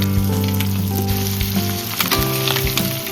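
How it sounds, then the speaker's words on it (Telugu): Fish deep frying in hot oil crackles and sizzles loudly and continuously, close up, with a droning hum underneath and no talk. "చేపలు అయితే మంచిగా ఫ్రై అవుతున్నాయి ఫ్రెండ్స్, డీప్ ఫ్రై అనమాట ఇది."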